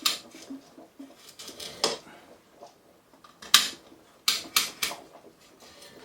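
A knife chops through a chicken for homemade broth in a kitchen, producing a series of sharp, close cuts and knocks against a board, bunched in irregular bursts with quieter gaps between them.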